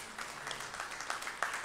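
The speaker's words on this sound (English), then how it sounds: "give us a big round of applause" A church congregation at a Sunday service breaks into applause, a soft, distant spatter of clapping with a few sharper claps standing out.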